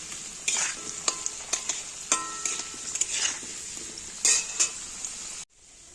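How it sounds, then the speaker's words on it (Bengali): Potatoes sizzle in oil for a mutton curry while a metal spatula scrapes and clinks against the pan in irregular strokes, close and clear, before the sound abruptly stops near the end. "মাংসর আলু ভাজা বসিয়ে দিয়েছি"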